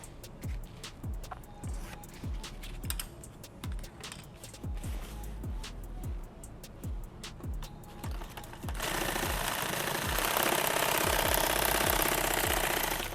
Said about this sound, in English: I just run down single stitch